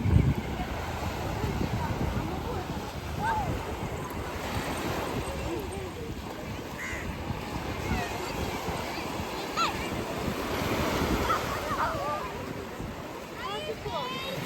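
Surf rolls in steadily at Periyambalam beach under heavy wind buffeting the microphone, with scattered voices and children's calls carrying over the constant wash of waves.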